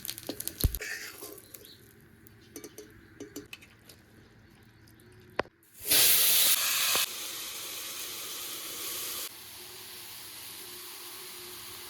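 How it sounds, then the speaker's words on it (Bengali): Cumin seeds drop into hot oil left in the pan and burst into a loud sizzling hiss that settles into a steady, softer frying sizzle. Quieter kitchen clatter comes before it, and nobody speaks. "এবার বাকি তেলে কিছুটা পরিমাণ জিরে ফোড়নে দিয়ে দেবো"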